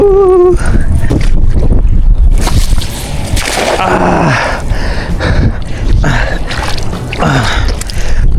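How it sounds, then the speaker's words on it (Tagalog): Strong gusty wind buffets the microphone on open water, with splashing and a fishing boat's rocking noises; a brief voice is heard near the start. "yung hangin nagmumula doon papunta dito sa atin"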